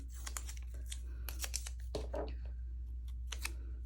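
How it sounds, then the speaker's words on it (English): Repositionable tape being pulled and pressed down to hold a paper stencil during cardmaking: quiet clusters of crisp ticks and short tearing crinkles near the listener, without speech. "And I think I'll tape down my stencil. I have some repositionable tape here."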